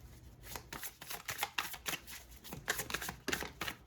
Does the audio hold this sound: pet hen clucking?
no